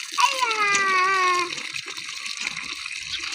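Water gushes from a hand-operated tap at a newly moved-into house, with a high squeaky whine at first and then steady flowing noise while voices talk nearby.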